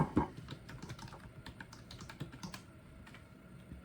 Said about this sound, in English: If I can type right